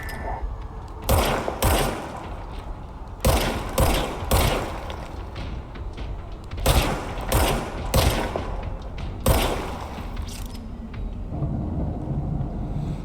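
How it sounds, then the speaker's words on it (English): Repeated bursts of player gunfire in the game Control ring out in clusters of sharp, heavy shots with short gaps between volleys, loud and close over a low background rumble. "Now I have a gun. Right trigger to fire."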